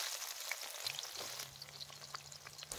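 Chopped onions go into hot oil in a pan, giving a soft crackling sizzle with scattered pops, faint and close, with a low steady hum beneath.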